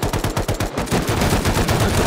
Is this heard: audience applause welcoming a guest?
no